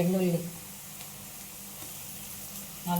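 Garlic and onions frying in oil as a tempering for Nellore-style pappu pulusu, a quiet, steady sizzle running throughout, with brief voice-like tones at the start and end.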